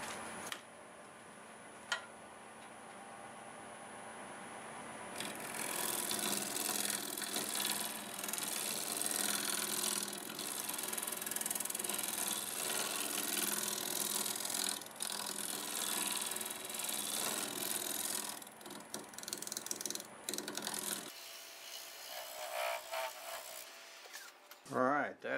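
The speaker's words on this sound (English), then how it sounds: "clean this up with a negative rake scraper." Wood lathe spinning an end-grain live-edge pear bowl while a negative rake scraper works the surface, giving a steady close whirring scrape of about sixteen seconds that then stops, with someone talking.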